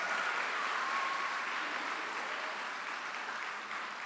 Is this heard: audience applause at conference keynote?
yes